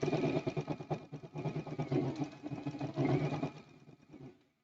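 A sewing machine runs steadily, stitching quilt pieces together with a 1/4 inch seam allowance for a quilt-as-you-go Christmas block, a continuous close mechanical whir with brief pauses that stops at the end.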